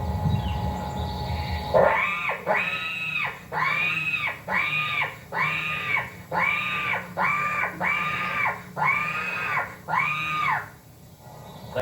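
A series of about nine wailing, gargled animal-like bawls imitating a bear, blown on a diaphragm call, rhythmic and loud, each rising then falling, with no talking.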